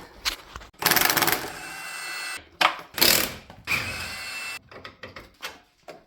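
An impact or power tool backs out 21 mm bolts while a truck shock absorber comes off during frame work, giving several loud, close bursts of whirring rattle separated by short pauses.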